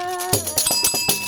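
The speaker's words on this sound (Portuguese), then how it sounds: "Ativa o sininho aí, ó. Ativa o sininho, exatamente." A small bell sound effect chimes during a Brazilian podcast about culture in Peruíbe: bright ringing strikes repeating quickly over a sustained tonal background, loud and close.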